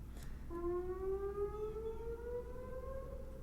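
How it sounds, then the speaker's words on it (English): A civil defense siren wails outdoors at moderate distance, its steady rising tone holding for several seconds over a low background rumble. "Sirens are going off."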